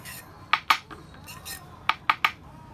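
A metal pot thumps and grinds green chili thecha on a griddle, making several sharp metallic clanks in two small clusters, close up, against a quiet background.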